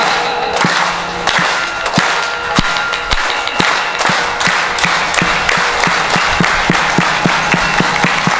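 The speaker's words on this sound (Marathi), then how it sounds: "एक टाळी." Crowd at a kirtan in Pandharpur clapping in a steady rhythm of sharp single claps, loud and close, with dense room noise and no talking.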